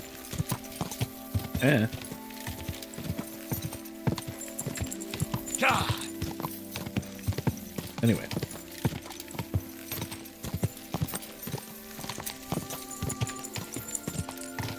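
Horse hooves clip-clop steadily in Kingdom Come Deliverance II, a regular close-up beat of hoofsteps running throughout, with someone talking briefly over it and a few louder vocal bursts.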